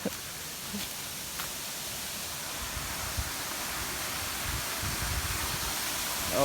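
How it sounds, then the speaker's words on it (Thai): Steady broadband rush of a waterfall at Pachaten village in Laos, a continuous even roar of falling water heard alone and fairly faint, with a few small clicks near the start. "ฟังเสียงน้ำตก"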